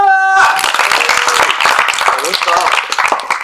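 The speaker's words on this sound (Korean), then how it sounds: "박수!" After a short tone, an audience at a Korean fighting match show breaks into brisk clapping that continues under loud, overlapping talk.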